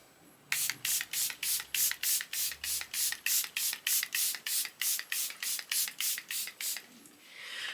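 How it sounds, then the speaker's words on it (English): Charlotte Tilbury Airbrush Flawless setting spray is pumped onto a face in about twenty quick, even spritzes, each a short hissing burst, close and steady over several seconds. "I'm just going to set my face now with the Airbrush Flawless"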